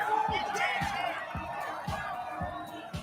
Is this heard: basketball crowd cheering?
yes